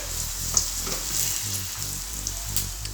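Vegetable pakoras made with chickpea flour sizzle in hot oil, a steady crackling fry with bursts of bubbling and occasional stirring, close and fairly loud with no voices.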